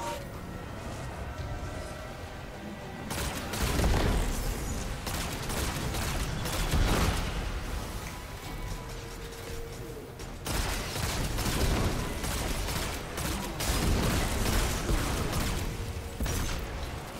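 Hand cannon gunfire during a solo run of the Duality dungeon in the Destiny 2 video game, a series of sharp shots with bursts of combat noise, explosions and mechanical clatter, dense and busy throughout.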